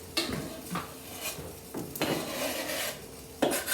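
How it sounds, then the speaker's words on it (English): A cooking pot being shifted off a stovetop to the front while ramen is being made, giving several scraping, clanking contacts of metal on metal and stove grate, close and fairly loud, with no talk. "So I'm going to go ahead and move this off the stove to the front"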